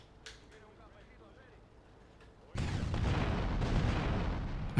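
Rocket fire in GTA Vice City, with a faint launch and then a sudden loud explosive roar that holds for the rest of the moment, rumbling and dense.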